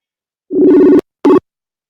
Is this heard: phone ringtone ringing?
yes